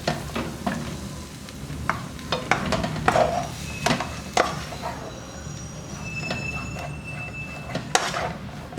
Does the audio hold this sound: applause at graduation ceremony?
no